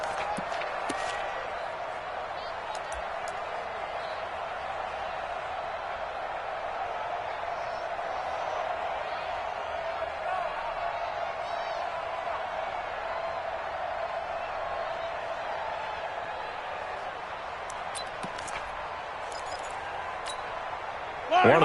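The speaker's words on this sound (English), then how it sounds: "The crowd getting into it as we come up on a big third down." A stadium crowd at a football game keeps up a steady, dense roar throughout as a big third down approaches, with brief sharp accents near the end.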